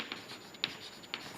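Pen or chalk writing out a physics derivation on Young's double slit fringe conditions, heard as soft continuous scratching with a few sharper taps, faint and close, with no talking.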